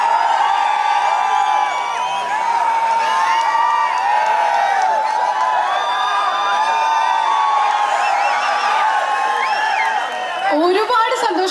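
A large crowd at a movie pre-release event in Trivandrum cheers, whoops and shouts loudly and without a break to welcome actor Joju George onto the stage, with many voices blending into a continuous roar.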